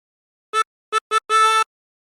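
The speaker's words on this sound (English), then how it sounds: "Breathe in through 6 4 times." Four separate draw notes on hole 6 of a harmonica: three short tones, the last two quicker together, then one longer held note, clear and close, with silence around them.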